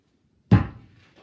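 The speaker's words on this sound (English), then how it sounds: "slamming his door" A single door slams shut as a sound effect in a children's story reading: one sharp, loud wooden thud out of silence, decaying quickly with a faint rattle and no voice over it.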